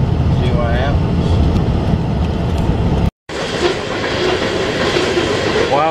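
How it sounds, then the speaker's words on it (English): A coal train rumbles past close by with steady low clatter and broadband roar, briefly cut off midway, with faint voices underneath. "this little coal train's passing"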